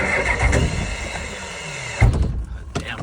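A starter cranks a gelled, frozen old truck engine in the cold, a loud, strained churning that briefly surges midway, close by with no talk over it.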